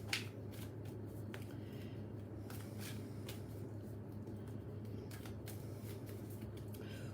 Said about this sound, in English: I'm giving the Southern Cross Stone Oracle deck a good old shuffle.